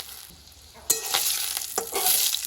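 Bay leaves and cardamom hit hot oil in a wok with a sudden loud sizzle that keeps crackling, broken by a few sharp stirring scrapes, close and without talk.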